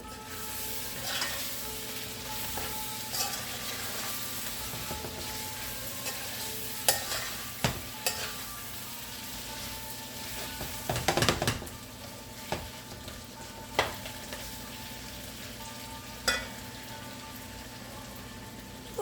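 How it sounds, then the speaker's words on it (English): Chicken biryani ingredients sizzle steadily in a pan while being stirred, a continuous frying hiss with occasional louder scrapes and clatters of the spoon, no talking. "Let me stir this around."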